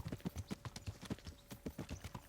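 Horse hooves clip-clop in a steady rhythmic gait while riding in the video game Kingdom Come: Deliverance, fairly faint and close.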